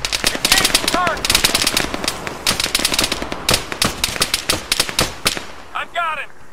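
Arma 3 infantry combat has rapid bursts of machine-gun fire crackling densely and loudly throughout, with shouted voices cutting in over the shooting.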